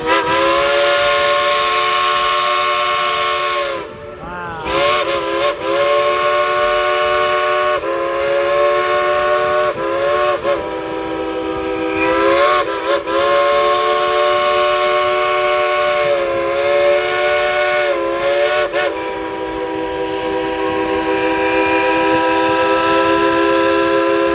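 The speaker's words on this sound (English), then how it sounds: "let's tell him to blow the whistle all together on the count of 3" A steam train whistle at Dollywood blows in a string of loud, close blasts, long sustained tones broken by short gaps and several brief toots, over a continuous engine rumble.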